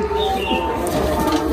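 A Madrasi pigeon coos softly and steadily close by, its low repeated calls sitting over a constant background hum.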